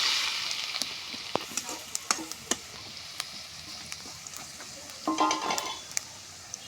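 Panch phoron sizzles in hot oil as a tempering for dal in a Bengali home kitchen. A steady crackling fry carries sharp scattered pops and brief stirring scrapes, with a louder burst of sizzle near the end.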